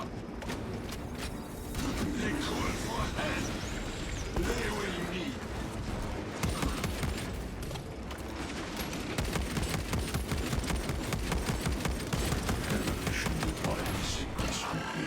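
Rapid gunfire from a Marksman Carbine in the video game Space Marine 2, dense repeated shots over a busy combat mix with a voice talking throughout.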